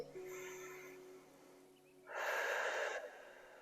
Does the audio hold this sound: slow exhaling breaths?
yes